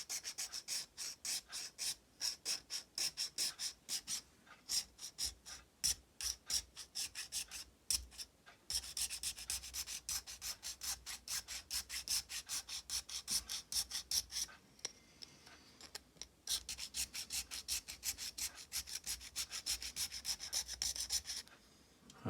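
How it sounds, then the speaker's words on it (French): Hand sanding inside a bicycle rim to prep it for gluing a tire makes quick, rhythmic rasping strokes, soft and close, that blur into longer continuous scrubbing stretches. "on va venir tout simplement poncer à l'intérieur comme ceci"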